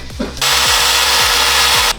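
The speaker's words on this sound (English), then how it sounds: "so it's a 3/8 bit. I got the holes drilled out" A power drill with a 3/8 bit bores holes in metal during a 5-lug swap on a car, a loud, steady whining run of about a second and a half with a short spin-up and cutoff.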